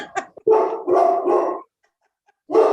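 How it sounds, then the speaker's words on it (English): A dog barks in several loud, close bursts, three quick barks in a row, a pause, then another bark, heard over a remote meeting connection. "you're getting my dog riled up by hearing your dog bark"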